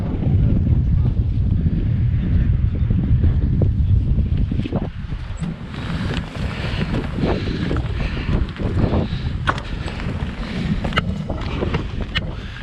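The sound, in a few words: wind in mountains during winter storm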